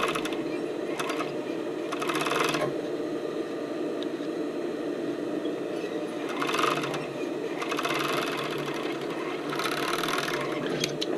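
A sewing machine stitches the waistband of a sports bra in several short bursts of rapid mechanical whirring, separated by quieter pauses with faint handling sounds.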